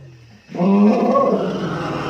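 An elephant's loud trumpeting roar bursts out after a quiet start and holds for over a second, harsh and nearby, with faint background noise before it.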